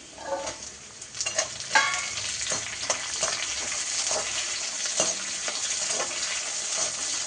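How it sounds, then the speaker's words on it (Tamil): Shallots sizzle and crackle as they fry in a pan, a steady close hiss with bursts of spitting and occasional stirring scrapes, no voices. "அந்த சின்ன வெங்காயத்தை இதில் போடுங்க"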